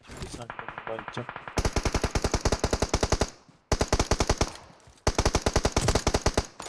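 Rapid automatic gunfire from a rooftop in PUBG Mobile rattles out in loud, evenly spaced strings of shots, broken by brief pauses into three or four long bursts.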